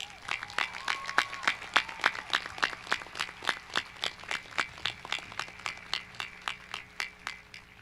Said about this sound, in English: please give a nice round of applause to the high school team led by Principal Fischel